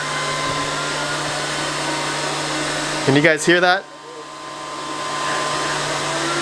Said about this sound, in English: This power supply definitely puts out a lot of air.